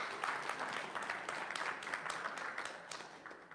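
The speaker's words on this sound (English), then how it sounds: "Let's give Max another round of applause." Steady audience applause after a performer at a talk event, a dense wash of many hands clapping that holds for several seconds and tapers slightly at the end, with no voices over it.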